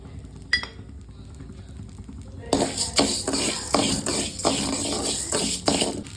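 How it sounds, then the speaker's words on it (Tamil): White urad dal is dry-roasted in the same pan used for pirandai. After a quiet start, a spoon scrapes and stirs the grains in a steady, rhythmic rattle against the pan. "இந்த பரண்டை வறுத்த வானல்லையே நம்ம வெள்ளை உளுந்து பொன் ஒருவலாக வறுக்கணும்"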